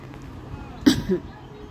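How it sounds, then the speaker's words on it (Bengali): A person with a cold gives one short, close cough that breaks briefly over a quiet background. "আমার ঠান্ডা লেগেছে, একটু ফুসফুস কাশিটা আছে এখনও"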